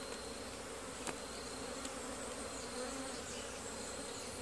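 Honeybees buzz densely and continuously around an open Auto Frame beehive, a close, steady drone with a few sharp clicks and knocks from handling of the hive.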